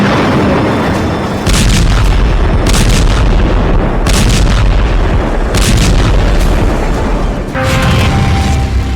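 Heavy bomb blasts from Israeli airstrikes on Rafah: loud, sustained booming and rumbling with repeated concussive bursts, dense and overpowering throughout.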